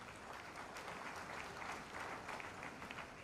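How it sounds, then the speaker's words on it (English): Audience applause at an accounting institute's induction ceremony in a large hall, sustained even clapping from many people, moderately distant and steady throughout. "Put your hands together"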